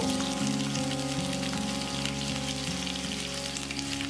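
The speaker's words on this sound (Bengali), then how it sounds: "ফোড়নটাকে হালকা হাতে একটু নাড়াচাড়া করে নিয়ে আমি ওর মধ্যে কেটে নেওয়া ডাঁটা আর আলুগুলোকে দিয়ে দেব" Cut drumstick stalks and potato pieces sizzle in hot oil tempered with green chilli, a steady dense crackle over a low background hum.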